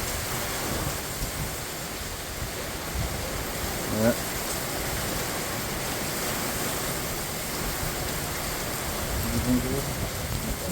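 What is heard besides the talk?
heavy rain in a swirling wind storm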